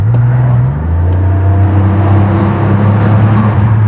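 A 1998 Alfa Romeo 166's engine drones loudly and steadily, its pitch dropping briefly as it shifts, then holding a strong sustained hum.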